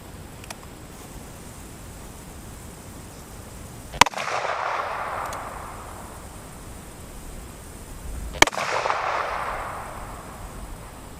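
Two sharp, loud gunshots from a Ruger Super Blackhawk .44 Magnum revolver with a 10.5-inch barrel, firing 240 grain cast hand loads outdoors, spaced about four seconds apart, each trailing into a short rolling echo.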